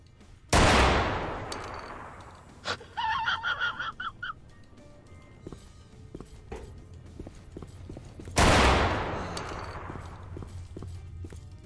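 Shotgun blasts in the S.T.A.L.K.E.R. mod Autumn Aurora: two loud booming shots several seconds apart, each with a long decaying tail, separated by a rattling sequence of quieter clicks and clatter.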